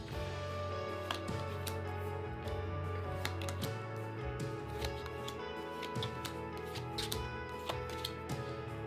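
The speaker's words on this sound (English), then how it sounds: "I feel like I gotta keep shuffling for you" Tarot cards are shuffled by hand in repeated crisp riffles and soft slaps, close and fairly quiet, alone over a faint indoor hum.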